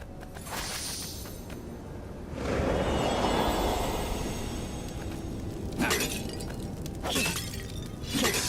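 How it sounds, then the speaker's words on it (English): Objects shatter and break in the action game Stories: The Path of Destinies, with a sustained crunchy smashing surge, then several sharp glassy breaks and whooshes over steady game ambience, and no talking. "Smashing things was fun."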